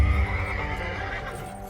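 Horses neighing amid the din of a medieval battlefield between English knights and Robert Bruce's army, a loud whinny over a constant low rumble and hum with no voices.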